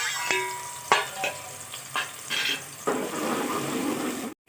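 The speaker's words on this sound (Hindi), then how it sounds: "इस ऑयल के अंदर हमने डाल देनी है 2 अदद प्याज। प्याज को डालने के बाद हमने प्याज को बड़ा अच्छा सा गोल्डन कलर देना है।" Onions fry in hot oil for a khara masala keema, giving a close, steady sizzle broken by clattering stirring strokes in the pan.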